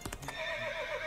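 A horse for a wedding horse-and-carriage gives a single loud whinny that rises and trails off, preceded by a few quick clip-clop hoof taps.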